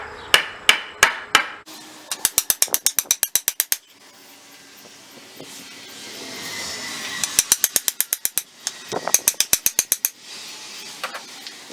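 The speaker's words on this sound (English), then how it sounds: "I had to get a sledgehammer because there's stones down there." A sledgehammer drives a stake into stony ground with rapid, sharp metallic blows in rhythmic bursts, loud and close, separated by brief gaps of outdoor background noise.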